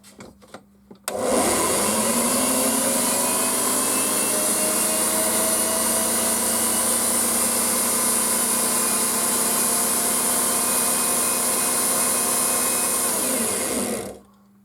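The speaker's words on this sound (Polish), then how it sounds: "No i kosiarka działa." An electric lawn mower motor, just repaired with new brushes, starts abruptly and runs at a steady high whine for over ten seconds, then spins down and stops.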